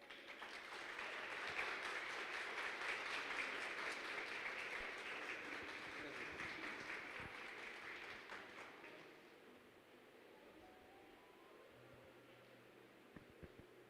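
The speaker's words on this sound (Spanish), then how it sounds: "Démosle un fuerte aplauso a Dios por la vida de nuestro pastor" Church congregation applauding during a service, a dense, faint wash of many hands clapping that builds, holds for several seconds, then fades to a quiet room with scattered sounds.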